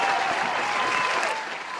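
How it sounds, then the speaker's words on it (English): Sustained applause from a podcast studio audience, dense and steady clapping that fills the short moment and tapers only slightly at the end. "Round of applause for y'all."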